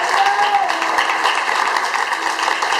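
A church congregation claps along with steady, energetic applause that fills the room throughout, while a voice carries on over it.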